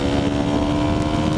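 A fast BMW motorcycle passes on a road in the Philippines, its engine a loud, steady, close drone that holds through the short moment with no talk over it.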